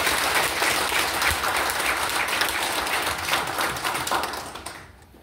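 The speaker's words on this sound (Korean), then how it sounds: "제 의견에 동의하면 박수를 부탁드리겠습니다" Sustained applause from an audience at a public hearing on mental health policy, dense and steady clapping that fades out near the end.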